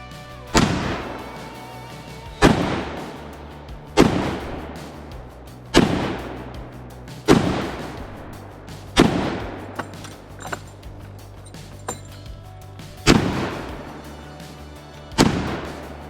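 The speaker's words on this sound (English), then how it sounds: "that 30-06 out of that M1 Garand is probably arguably the most powerful cartridge I've got" M1 Garand rifle firing .30-06 rounds at a cast iron Peerless 2300 transmission: about nine loud, sharp reports spaced one to two seconds apart, each ringing out and decaying, with no talking.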